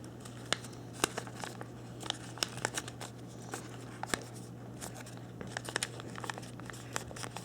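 Paper being folded and creased into an origami Totoro, a quiet run of crisp crinkles and sharp snaps at irregular intervals against a low steady hum, no speech.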